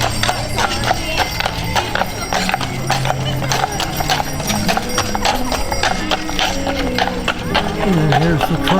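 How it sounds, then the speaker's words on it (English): Hooves of a horse pulling a lit-up horse-drawn buggy through downtown Monroe, a busy rhythmic clip-clop running the whole time amid loud outdoor bustle, music and crowd noise. "this is the horse-drawn buggy"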